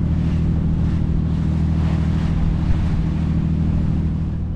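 Ocean swells striking a Nordhavn 55 motor yacht from the side on a winter Inside Passage run, heard as a steady rushing wash of water and wind over a constant low engine drone, continuous and fairly loud.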